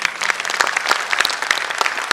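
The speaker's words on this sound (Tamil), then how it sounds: "சபாஸ், கைதட்டுங்க." Audience at a Tamil debate stage show breaks into clapping, a dense crowd applause with sharp individual claps popping out close and loud, sustained without pause.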